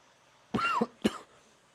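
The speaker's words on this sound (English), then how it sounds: "A bit of a cough there." Two close, sharp coughs in quick succession, the first longer and rougher, then silence.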